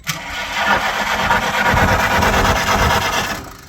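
A 1949 Farmall H tractor engine cranking over on a jump pack with the ignition coil out, a steady loud churning turnover lasting several seconds before stopping.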